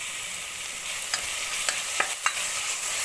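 Fresh mint leaves stirred into a hot frying pan with tomato and herbs, giving a steady soft sizzle punctuated by a few sharp scraping strokes of the spoon, close up with no talking.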